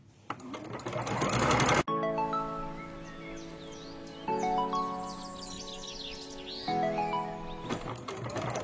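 A sewing machine runs in long steady stitching bursts across a thin fabric scarf, with a high chirping whine layered over the motor hum and brief pauses between runs, close and clear with no talk.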